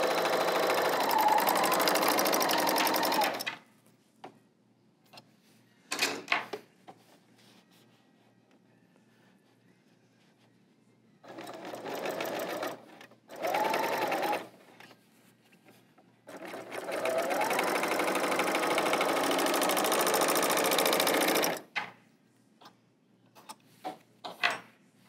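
Baby Lock L890 serger stitching in several bursts of rapid mechanical chatter, a long run, short stops and starts, then another extended run, close and distinct, separated by quiet gaps.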